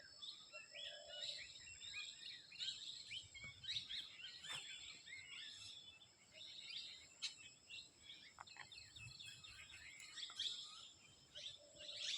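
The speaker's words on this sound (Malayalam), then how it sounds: "ഈ കിളികളൊക്കെ ഇങ്ങനെ ശബ്ദിക്കുന്ന സൗണ്ട് നമുക്ക് പുറത്ത് കേൾക്കാം" Birds chirp and tweet faintly outdoors at night in repeated short bursts, with a soft steady insect hum underneath; quiet and distant.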